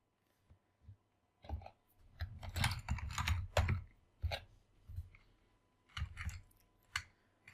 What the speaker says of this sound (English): we'll type the password.